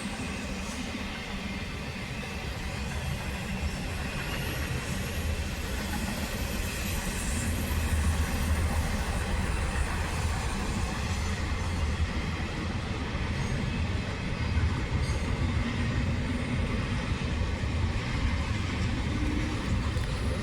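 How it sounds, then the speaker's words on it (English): A long intermodal freight train with five engines rolls past at La Crosse, Wisconsin, with a continuous loud rumble and rattle of railcars that holds steady for the whole stretch. "That train's been here for like 3 minutes."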